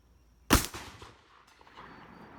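A Desert Eagle .50 AE pistol fires a single loud, sharp shot from a shooting bench. The crack is followed by a short rumbling echo that fades into quiet.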